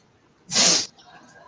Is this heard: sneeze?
yes